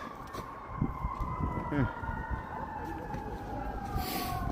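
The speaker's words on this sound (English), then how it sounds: "We got sirens." A wailing emergency vehicle siren sweeps slowly through its pitch over steady city street noise in Chicago, with people chatting nearby underneath.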